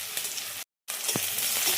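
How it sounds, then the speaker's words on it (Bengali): Garlic and onion fry in oil with a continuous close sizzle, broken by a brief silent gap and a soft knock of stirring. "রসুনটাকে একটু লাল লাল করে ভেজে নেব, রসুন আর পেঁয়াজটাকে।"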